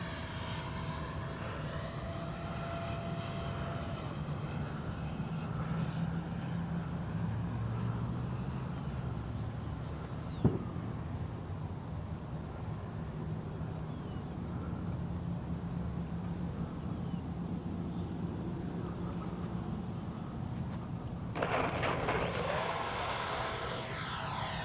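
An E-flite 64mm Viper electric ducted-fan RC jet taxiing slowly on a runway, its steady whine and rushing fan noise continuous and moderately close, with pitch shifts as throttle changes and a louder surge near the end.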